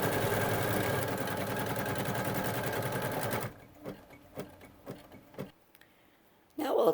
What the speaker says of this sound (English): slow the motor speed down on your embroidery machine just for this sequence when you sew this line